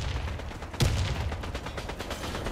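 Automatic rifle fire in the online shooter Warface: a steady run of rapid shots, fairly faint, with one louder, sharper blast early on.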